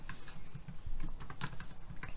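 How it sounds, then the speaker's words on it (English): Rapid, uneven keystrokes on a computer keyboard, close and fairly quiet, clicking in quick clusters with no voice over them. "let's type some text"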